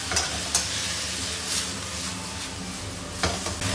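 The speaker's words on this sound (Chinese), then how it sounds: "放入焯水的毛豆和这个花菜一起给它翻炒一下" Blanched edamame and cauliflower are tossed with cooked-down tomato in a wok, making a loud, close, continuous sizzle punctuated by a few sharp clacks of the spatula.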